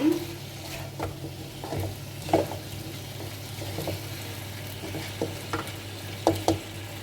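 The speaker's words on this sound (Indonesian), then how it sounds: "Selanjutnya kita akan kasih kecap, diaduk-aduk lagi" Spoon stirring ribs in a pan after sweet soy sauce goes in, with a soft steady sizzle and several light scraping knocks spread through the stretch, close and moderately quiet, no talking.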